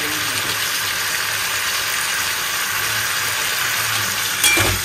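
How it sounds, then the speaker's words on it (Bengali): Potatoes and onions fry in a pan with a steady, loud, even sizzle throughout and a brief louder scrape near the end. "পেঁয়াজটাকে আগে দিয়ে ভেজে আলুটাকে ভাজছি"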